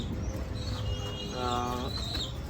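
Fancy pigeons, Red Lahori and Danish birds, coo softly in a loft, with a few brief rolling calls and faint chirps over low background noise and nearby speech.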